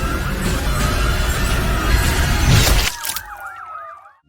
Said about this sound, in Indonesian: terdengar suara sirine